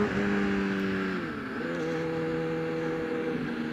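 A 2002 Suzuki GSX-R sport motorcycle with a shorty exhaust rides by, its engine a steady, droning, buzzy note that dips in pitch midway and then holds, fairly close and continuous.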